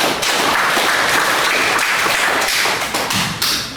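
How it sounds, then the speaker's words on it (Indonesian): Schoolchildren in a classroom clap for one another during an Islamic religious education lesson, a brief, loud, close burst of uneven hand claps with thumping taps that tails off after a few seconds. "tepuk tangan untuk kita semua"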